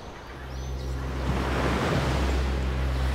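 Sea waves wash along the windswept northeast England coast at Marsden Rock, a steady, loud surf roar with wind noise across the microphone, continuous throughout with no talk.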